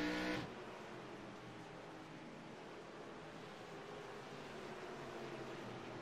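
A group of five race cars works through turns one and two at Lucas Oil Raceway during a short-track race. Their engines make a steady, dense roar that fills the whole clip with no voices.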